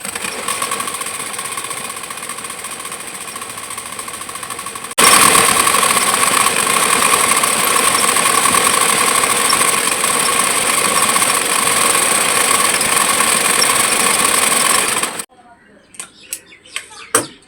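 Sewing machine running steadily while stitching seams on a six-panel petticoat, a loud continuous motorized whir that holds for about ten seconds before stopping, followed by a few faint clicks and handling sounds.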